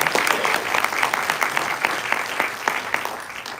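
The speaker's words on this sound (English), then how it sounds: "They deserve everybody's round of applause for the work they've done" Audience at an infrastructure panel at the Lone Star Legislative Summit 2024 in Texas breaks into applause: steady, moderately loud clapping with distinct individual claps filling the whole stretch.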